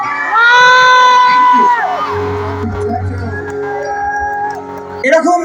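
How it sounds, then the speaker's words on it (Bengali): An audience at a college live stage concert shouts and cheers loudly for about two seconds, then the crowd noise drops to a lower roar. Someone speaks over the mic, and the cheering surges again at the end. "এবার একটা মন ভরানো চিৎকার শুনতে চাই"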